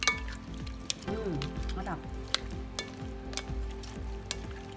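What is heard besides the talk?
mixing squid kinilaw salad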